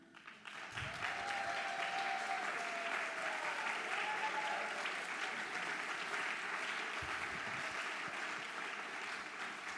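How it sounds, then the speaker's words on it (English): Sustained applause from a seated awards-event audience honoring trustees, a dense, even wash of many hands clapping that holds steady for about ten seconds at a moderate distance. "ask each of them to stand now for a round of applause"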